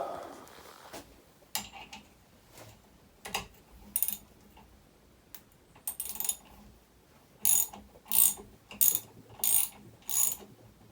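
A ratchet wrench turns M6 bolts on a puller removing a part from a 1991 Lotus Esprit engine, with close, sharp clicking bursts in an irregular rhythm that quicken toward the end.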